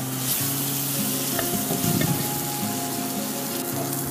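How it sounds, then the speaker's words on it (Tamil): Ground thuthuvalai (climbing brinjal) paste sautés in a pan for rasam, a steady dense sizzle with small crackles and pops running continuously throughout, close and fairly loud. "சேர்த்து நல்லா வதக்கிக்கணும். பச்சை வாசம் போகிற வரையும் நல்லா வதக்கிக்கணும்."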